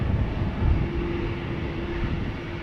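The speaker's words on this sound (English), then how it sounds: "EasyJet A320neo, destination Edinburgh" Steady low broadband roar of an EasyJet Airbus A320neo jet airliner departing Amsterdam Schiphol Airport, loud and continuous with a faint sustained engine whine, no voices.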